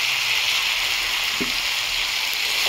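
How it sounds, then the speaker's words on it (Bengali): Fish frying with potato, green chili and turmeric in hot oil, a loud continuous sizzle with one brief scrape of stirring, no voices. "কষবো ভালো করে, কষে ফিরছি।"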